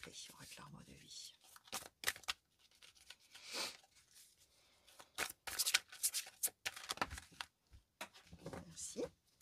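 Oracle cards for a tree-of-life reading are shuffled in bursts of crisp, close riffling and papery slapping, separated by quiet gaps, while someone speaks softly between them.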